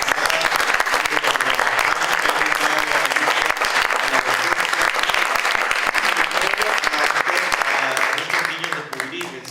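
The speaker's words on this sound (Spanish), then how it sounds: "pedirle un último aplauso" An audience at a public book-conversation event breaks into sustained applause, a thick, continuous patter of many hands clapping that stays strong and then begins to taper off at the very end.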